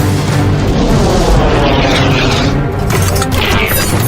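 Loud, roaring blast as a $36 million plane explodes into a fireball just short of the sound barrier, a dense sustained rumble filling the whole moment with no speech.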